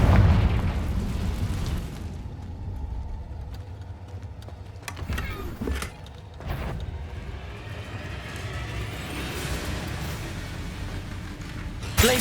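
Confringo blasting spells explode in the game Hogwarts Legacy: an opening heavy boom, then a continuous rumbling bed broken by several sharp cracks and pops in the middle, with another hit at the very end.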